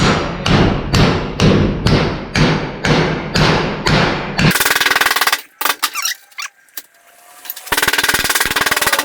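A metal plate held in a vise takes about nine heavy, evenly spaced blows. Scattered clanks and a near-silent pause follow, then a burst of steady noise.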